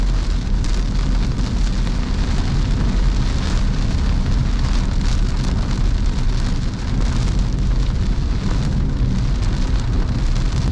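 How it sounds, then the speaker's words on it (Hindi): Heavy rain pours steadily and densely in Punjab, a continuous close wash of drops hissing on surfaces with no talk and no letup. "तेज़ बारिश आ रही है।"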